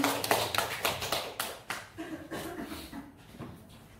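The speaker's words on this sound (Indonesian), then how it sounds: "Tepuk tangan Bapak Ibu yang meriah." A small audience claps at a school education dissemination event, sparse uneven handclaps in a loose irregular rhythm, fairly close and thinning out toward the end.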